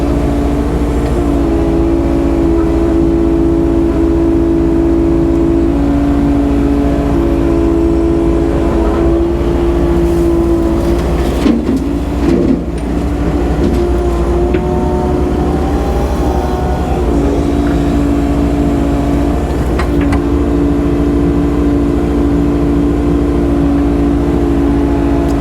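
Heavy equipment drones steadily while loading pond mud into a truck, a sustained engine hum with a strong tonal whine that dips and shifts midway as the machine works, loud and continuous.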